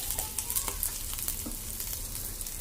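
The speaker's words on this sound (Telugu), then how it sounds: "మూత పెట్టి ఫైవ్ మినిట్స్ లో ఫ్లేమ్లో ఫ్రై చేసుకుందాం" Vegetables for egg fried rice frying over a flame, a steady close sizzle with faint scraping, no voices.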